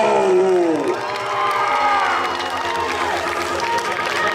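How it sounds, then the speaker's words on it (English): Crowd of convention-goers cheering and applauding a cosplay contestant at a comic con costume contest, a loud burst of whoops and clapping that swells, then settles into steady mixed cheering. "Let's give a round of applause."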